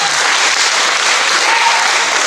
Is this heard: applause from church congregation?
yes